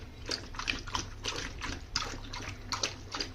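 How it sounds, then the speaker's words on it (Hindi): An animal laps water from a bucket, giving a series of quick, close wet slurps and splashes in an uneven rhythm over a low background hum. "और देखिए अब प्यास लग गया इसको और जा रहा है पानी पीने।"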